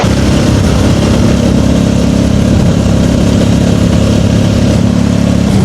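A tuk-tuk engine chugs loud and close while riding on the road, a constant rough drone that holds steady throughout with no talk.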